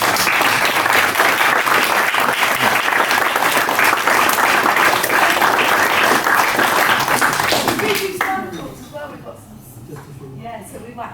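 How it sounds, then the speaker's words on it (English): An audience applauds at the end of a talk on DNA, a dense, loud, sustained wash of clapping lasting about eight seconds before it fades out and a voice begins speaking. "a big round of applause for Ian."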